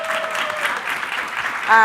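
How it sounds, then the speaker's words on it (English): Audience applause at a town hall for a congresswoman, steady broadband clapping throughout, with a brief tonal sound entering near the end. "please give her a round of applause"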